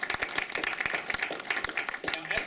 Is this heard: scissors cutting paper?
no